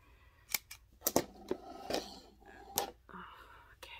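Several quick, crisp scissor snips cutting chunky crochet yarn in an irregular run, close by and quiet, with faint rustling between cuts.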